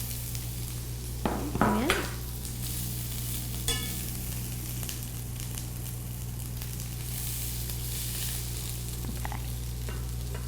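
Chopped red onion sizzles steadily in a hot pan, a soft continuous frying hiss with an occasional stir, while a voice says a single word.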